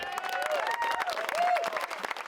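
Medical Lake community members cheer and applaud at a mayor's announcement. Scattered clapping and crowd noise run steadily under a few voices and some tonal sounds.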